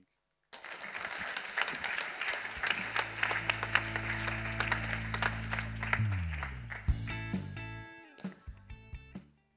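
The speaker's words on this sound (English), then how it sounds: "We need another round of applause for these great dozen." Sustained audience applause at a journalism-teaching conference session, a dense wash of clapping from a large crowd that swells, holds steady for several seconds, then thins out near the end.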